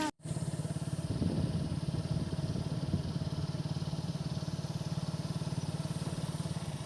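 A motorcycle engine runs steadily at a low, even thrum while a family rides along on the bike, with faint road and wind noise and some voices around it.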